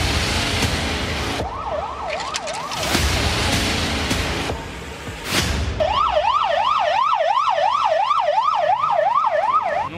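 An ambulance siren wails in rapid rising-and-falling sweeps, loud and close, over road noise, with a brief second siren pattern joining partway.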